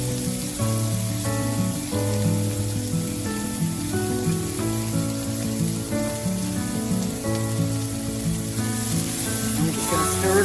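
Red pepper fries in hot oil in a cast iron skillet with a steady sizzle that runs the whole time beneath a melodic background music track.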